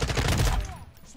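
A short, loud burst of rapid shotgun fire in the video game Call of Duty, quick repeated blasts that cut off after about half a second.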